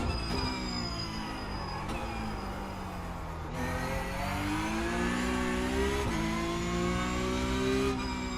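A Porsche Cup race car engine in iRacing at Zandvoort drones steadily and loudly, with several upshifts and gear changes marked by brief dips followed by rising revs throughout.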